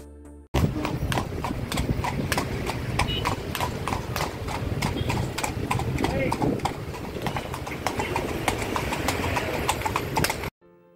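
Hooves of two horses pulling a chariot clip-clop in a steady, loud rhythm for about ten seconds, with a busy outdoor crowd and faint voices underneath and a brief whinny-like sound possible.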